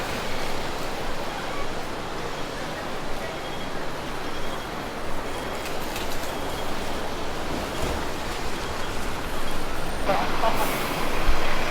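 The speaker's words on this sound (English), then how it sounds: "They're really fond of the double-decker bus here." Double-decker bus traffic on a rainy Hong Kong street, heard as a steady, loud wash of engine rumble and road noise that swells slightly near the end.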